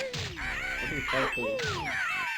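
A big giant bird in the Banjo-Kazooie video game gives cartoonish cawing calls, two loud squawking bursts with swooping pitch, close and clear against a light game backdrop.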